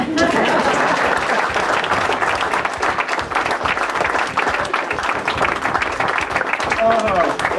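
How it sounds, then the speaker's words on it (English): A living-room audience in Iowa applauds Republican presidential candidate Fred Thompson, sustained, close clapping from a small group, loud and continuous, with voices talking over it. "could I have a round of applause?"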